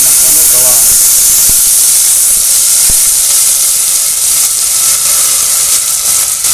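Whole spices (clove, black pepper, a piece of cinnamon stick) sizzle in hot oil for tempering a Gujarati dish, a loud, dense, steady hiss close up throughout, with a few faint clicks and a brief voice early on.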